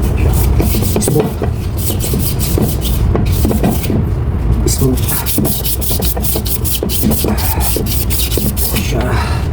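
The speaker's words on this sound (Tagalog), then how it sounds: "Tapos padaanan natin ang liha na kaunti para" Close, steady sandpaper rubbing on a fan motor part during an aircon indoor fan motor bearing replacement, a continuous loud gritty scraping with quick back-and-forth strokes throughout.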